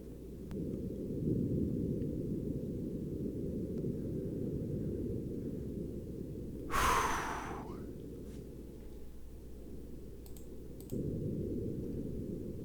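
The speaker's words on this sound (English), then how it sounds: "Real sounds of Mars recorded by NASA's Perseverance rover." Martian wind captured by NASA's Perseverance rover on Mars: a steady, low, muffled roar of buffeting air with one brief, brighter gust near the middle and no voices.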